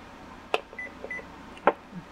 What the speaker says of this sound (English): Beeped twice